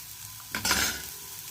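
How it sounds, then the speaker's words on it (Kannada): Garlic paste and tomato land in a hot pan, setting off a short burst of sizzling that swells quickly, holds for a moment, then settles into a quieter frying hiss, close and without any voice. "ಇವನ್ನೆಲ್ಲವನ್ನು ನಾವು ಏನು ಮಾಡಬೇಕು, ಫ್ರೈ ಮಾಡಲೇಬೇಕು. ಫ್ರೈ ಆಗಲಿ."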